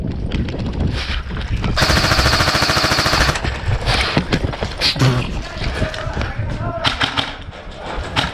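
Rapid bursts of airsoft gunfire crackle during a close-quarters skirmish, with one long dense string of shots suppressing a window, scattered single pops around it, and voices calling out between bursts.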